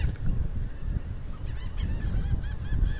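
Seagulls call repeatedly close by outdoors, their harsh honking cries coming in bursts over a steady low rumble of wind or surf.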